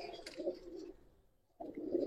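A pair of young, nine-month-old pigeons give low, throaty coos, two short murmuring phrases split by a brief pause, quiet and close.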